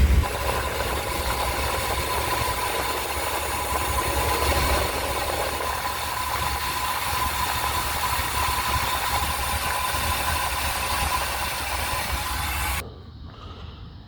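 A car engine idles after a full can of Sea Foam was sprayed into its throttle body, a steady, close mechanical hum with a faint rough vibration that cuts off abruptly just before the end.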